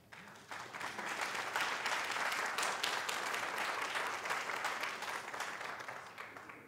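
Audience applause at an oratorical contest fills the hall after a speech, a dense, steady clatter of many hands that rises quickly, holds strong for several seconds, then thins out toward the end.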